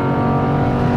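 Loud, steady drone of a 5.2-litre naturally aspirated V10 in an Audi R8 V10 Spyder convertible, a dense harmonic engine note held constant throughout with no speech.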